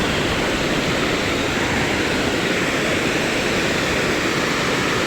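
Water pours steadily over a small dam at a tourist spot, a loud, unbroken broadband rush that fills the whole stretch with no pauses and no voices.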